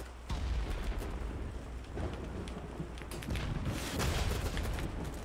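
Rocket explosions boom through a BattleBit Remastered firefight, with heavy blasts and rumbling impacts layered over continuous gunfire and battle noise.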